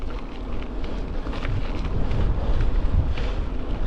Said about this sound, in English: quite a nippy westerly wind actually